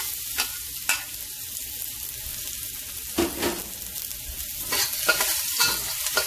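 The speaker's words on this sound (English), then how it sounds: "Stir fry that until fragrant." A garlic and black pepper mixture stir-fries in a little oil for lobster, a soft continuous sizzle broken by a few scraping strokes of a spatula against the pan, close and moderate in level.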